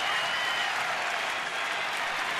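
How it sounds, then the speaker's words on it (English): Steady applause and clapping at a baseball game between Atlanta and Washington, with the dugout clapping as Washington fans rise for a standing ovation after a batter reaches first base; dense, continuous and moderately distant for the whole stretch. "Dugout clapping behind him."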